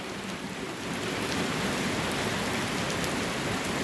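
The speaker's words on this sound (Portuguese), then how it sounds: "E a chuva está voltando a ficar mais grossa novamente." Rain in Guajará-Mirim, Rondônia, builds into a dense, continuous hiss that swells slightly louder after the first second, then holds steady and close with no talking.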